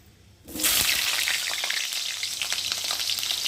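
Potatoes dropped into hot oil over fried tempering spices for a soybean dish burst into a loud, steady sizzle and spatter that sets in suddenly after a quiet moment and keeps going without any talking.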